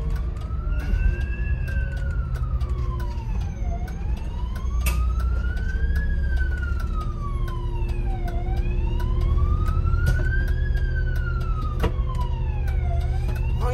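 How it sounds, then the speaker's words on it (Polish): An ambulance siren wails steadily through an intersection, its rising-and-falling tone sweeping in repeated cycles over low traffic rumble, loud and near throughout. "Pojedzie karetka, zablokowałem znaczenie, zablokowałem skrzyżowanie"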